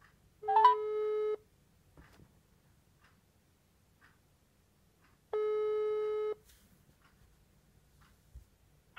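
A telephone ringback tone plays during a call about a job vacancy: two long steady tones, each about a second, separated by several seconds of near silence.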